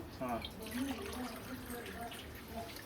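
Tap water runs steadily into a cooking pot while veg biryani is prepared in a home kitchen, a continuous moderate splash under a low hum with no one speaking.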